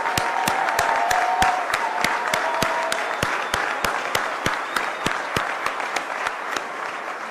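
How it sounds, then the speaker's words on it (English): A crowd applauds first responders at a Florida gathering: sustained applause from many hands carries throughout, with sharp regular thumps punctuating it and a few faint voices beneath. "Give these guys a round of applause."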